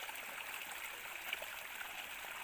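Water gushing steadily from a pump outlet in a Himachal hill village, a constant close splashing rush with no pauses and no voices over it.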